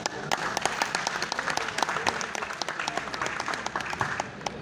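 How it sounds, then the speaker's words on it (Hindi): Audience at a poetry recital giving loud applause for the poet Manju Shakya, many hands clapping with sharp individual claps standing out from the steady crowd sound. "मैं चाहता हूँ एक बार जोरदार तालियां मंजू दीदी के लिए"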